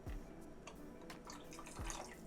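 A little more water poured into a canning jar holding pre-frozen meat, a soft, quiet trickle with a few faint drips and light clinks, close by, with no talk.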